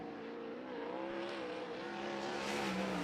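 Race car engine droning steadily on the racetrack at Arizona Speedway, a continuous loud pitched whine that rises slightly, heard alone for a few seconds.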